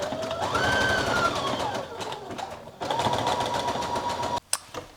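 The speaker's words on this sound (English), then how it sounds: "I'm going to sew a zigzag stitch." A sewing machine runs a zigzag stitch over overlapped elastic in two close bursts of rapid, even needle clatter, each speeding up and then stopping, with a short pause between them.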